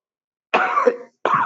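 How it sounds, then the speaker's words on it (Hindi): A man coughs twice in quick succession, close and fairly loud, with a short pause between the two bursts and silence around them. "थोड़ा खांसी हो गई।"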